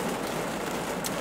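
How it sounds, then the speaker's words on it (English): Steady rain falls across the whole stretch, a dense, even hiss of drops spattering on surfaces with no talk over it. "I feel like I gotta talk louder because it's raining now"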